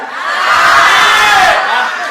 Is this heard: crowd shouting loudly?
yes